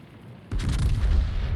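An Italian Lepanto tier 9 battleship fires its main guns in World of Warships, one sudden heavy boom after a quiet moment, rumbling loudly as it decays.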